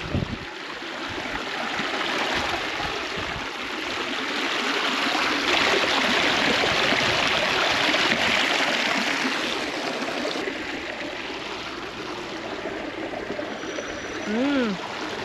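Spring water at a village spring in Iran flows and splashes steadily up close, a continuous broad rush of running water, while people talk faintly over it.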